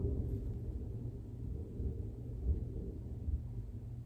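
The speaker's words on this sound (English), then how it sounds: "Did you hear that thunder?" Low, steady rolling rumble of thunder, distant and sustained with no sharp crack, heard alone without talk.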